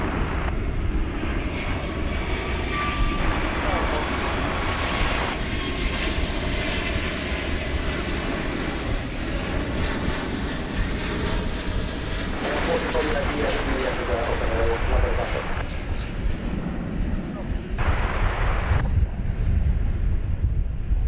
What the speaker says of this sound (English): That'll be a 767 cargo coming in on the east side.